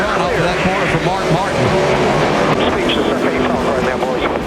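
NASCAR race cars running door to door at the 2009 Ford 400, engines roaring loudly and shifting pitch as they pass, under continuous commentator talk.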